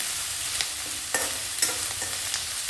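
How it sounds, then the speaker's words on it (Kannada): Onion frying in a pan for a puffed-rice oggarane, a soft continuous sizzle broken by a few sharp scraping strokes of a spoon stirring, heard up close without any talking. "ಈಗ ಸ್ವಲ್ಪ ಈರುಳ್ಳಿ ಫ್ರೈ ಆಗಿದೆ"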